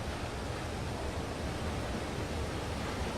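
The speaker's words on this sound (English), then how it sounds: "I almost hear like a waterfall" Waterfall in the video game Limbo, a steady, unbroken rushing hiss of falling water, soft and distant, with no other sounds.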